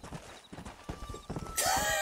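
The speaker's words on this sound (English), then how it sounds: "Just getting a couple more horses." Horses in Red Dead Redemption: hooves clip-clop in an uneven trotting rhythm close by, followed by a shrill whinny at the end.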